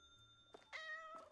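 A cat in a supermarket video game gives a short, clear meow of about a second, close and alone against a quiet background.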